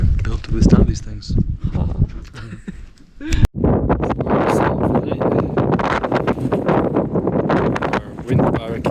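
Wind buffets a camp at about 4250 m altitude on the Paso de Jama, loud and gusty against the microphone with a sharp bang near the middle, while people talk over it throughout.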